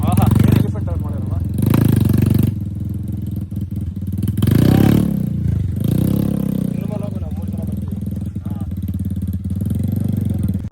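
Motorcycle engine revving and surging in bursts during off-road riding on muddy ground in Chitradurga, loud and close, with the rider's voice talking over the engine noise throughout.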